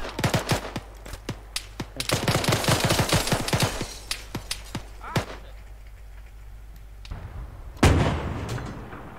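Rapid bursts of gunfire from infantry being shot in the military game Arma 3, dense and close for several seconds, then thinning to a few isolated shots and one louder blast near the end.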